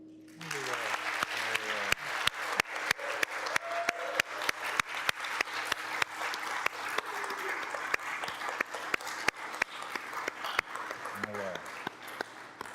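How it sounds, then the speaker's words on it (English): A congregation at a Buddhist temple service claps, with sharp individual claps ringing out over a steady patter that lasts throughout, while voices speak faintly near the start and close to the end. "Applause is good."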